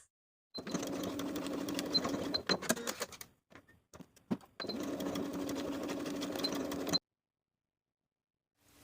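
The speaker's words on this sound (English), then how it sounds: "Sew both sides with a 5/8 inch seam allowance." A sewing machine runs side seams on a Gilbert top in two long, steady, close whirring passes, split by a short stretch of brief stops and starts, then cuts to silence.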